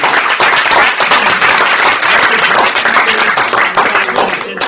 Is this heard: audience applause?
yes